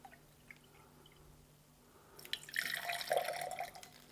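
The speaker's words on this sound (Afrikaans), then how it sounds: "As ek nou water vat en ek gooi nog water in die glasies" Water poured from a container into small glasses and spilling over, a faint trickle and splash that rises to a steady pour after a quiet start with a few drips.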